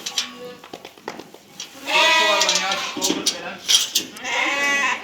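Young lambs bleating in a barn, several wavering calls overlapping near the listener, with people talking and moving about between and under the cries.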